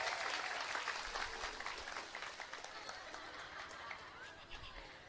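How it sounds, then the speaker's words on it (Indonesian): A congregation at an Islamic religious lecture claps for the Banser guards, a faint, fairly brief burst of crowd applause mixed with voices that gradually eases off. "Tepuk tangan dulu dong buat Banser."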